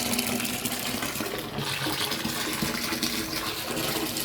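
Hot soapy water gushing steadily from a tap into a tub where mower deck spindle parts are soaking, a continuous close, full pour with gurgling and no voices.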